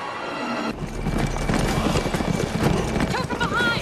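Horse galloping in the Xbox game Darkwatch, rapid rhythmic hoofbeats under a rumbling mix, with a whinny near the end and someone speaking over the action.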